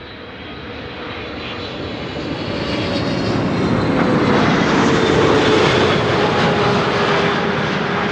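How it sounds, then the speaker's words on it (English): A KLM Boeing 777-300 arriving at Amsterdam Schiphol from Johannesburg roars steadily overhead, its broad jet-engine rumble building in loudness and holding strong with a faint whine riding on top. "This is KLM flight 592, arrival from Johannesburg in South Africa."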